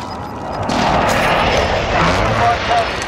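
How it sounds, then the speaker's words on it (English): Explosions from a friendly precision airstrike in the video game Warzone, a sustained rumbling roar of blasts and debris that stays loud and dense throughout. "Be advised, friendly precision airstrike is inbound."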